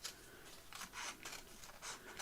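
Scissors cutting out a pink paper piece for an ideas book, soft quiet snips and papery rustles in a quick irregular rhythm, close up and with no talking.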